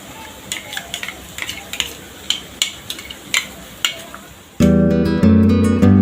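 Potatoes frying in hot oil in a pan for a masala frankie, a quiet sizzle with repeated clinking spatula taps, then a loud tonal sound takes over near the end.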